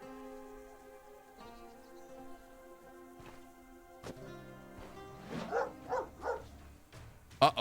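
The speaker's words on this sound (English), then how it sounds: "A doggy." Dog barking in the video game Stoneshard: a few short barks near the end, rising over a steady musical game soundtrack, with no talking.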